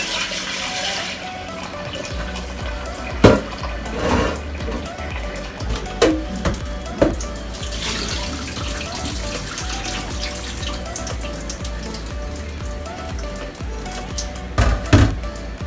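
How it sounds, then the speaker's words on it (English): Tap water runs steadily into a pot, collecting water to cook black beans for Haitian sauce pois, with a few louder splashes and clunks from the sink. "So I'm going to catch some more water, and I'm going to put it on the stove to cook."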